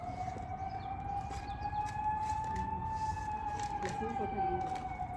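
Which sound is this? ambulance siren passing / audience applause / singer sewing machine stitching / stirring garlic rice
ambulance siren passing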